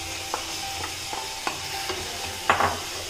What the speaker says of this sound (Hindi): अब मैं इसमें जो भुना हुआ आलू था उसको मैं डाल देंगे